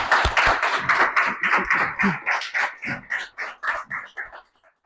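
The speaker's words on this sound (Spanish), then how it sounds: "hay que recibirlo con un fuerte aplauso, por favor" A seminar audience greets a physics speaker with clapping that begins full and bright, then thins into sparser claps and fades out completely within a few seconds.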